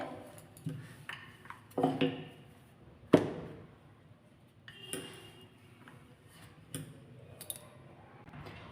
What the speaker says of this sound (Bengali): এবার আমি বেলছি এইভাবে গোল রাউন্ড করে বেলতে হবে